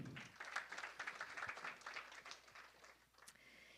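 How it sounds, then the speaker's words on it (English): Applause from a small audience at a Jain scholars academic event, a dense patter of hand claps fading somewhat toward the end, heard faintly at a distance. "One more round of applause."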